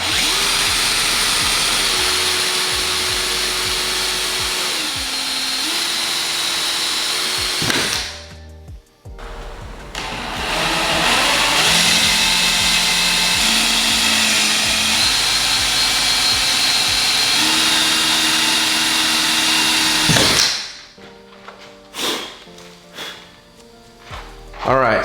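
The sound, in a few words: power drill drilling through car hatch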